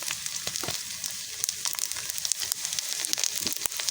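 Panch phoron spices sizzle and crackle in hot oil while mango pickle is prepared, a dense, steady close-up frying hiss broken by sharp popping crackles.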